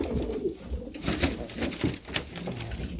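Breeding pigeons in an aviary coo repeatedly in low, throaty, rolling calls. Several birds sound close by, with soft shuffling and flutter between the calls.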